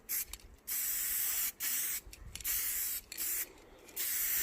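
Short bursts of aerosol spray paint hiss on and off onto Raleigh Burner bicycle forks, three or four sprays separated by brief pauses, close and steady.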